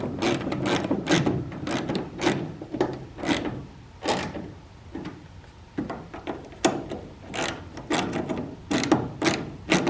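Plastic fasteners being tightened on the tail lights of a Ford F250 bed, tailgate and bumper, with repeated quick ratcheting clicks in short bursts, close and fairly loud, with no speech.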